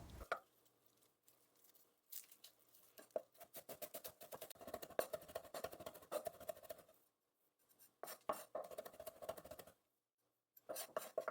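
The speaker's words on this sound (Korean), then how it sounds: "남은 대파는 전부 다질 거예요." Green onion is minced with a knife on a cutting board during Chinese cooking exam prep, with rapid faint chopping taps in bursts separated by short pauses.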